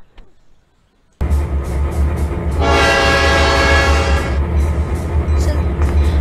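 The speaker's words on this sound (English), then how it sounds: "So the excursion train ran up to him at quite a slow speed" An excursion train rolls up loudly after a brief quiet moment. Its horn blasts strongly for about two seconds, and the engine keeps rumbling afterward.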